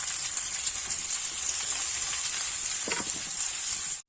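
Onion and tomato sizzle steadily in a hot pan, a continuous close, bright frying hiss for a potato masala sandwich filling, with a faint clink near the end before it cuts off.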